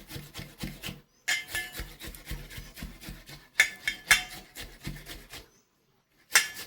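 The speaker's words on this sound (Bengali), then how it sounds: "এবার আমি পেঁয়াজটা এই যে ঘষে নিচ্ছি।" An onion is rubbed by hand against a grater in quick rhythmic rasping strokes. The scraping comes in short bursts separated by brief pauses, close and moderately quiet, with no talking.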